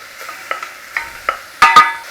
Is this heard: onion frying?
yes